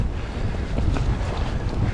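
Wind sweeps across an exposed hiking section in Snowdonia, a steady roaring rumble buffeting the microphone up close, with no talk over it.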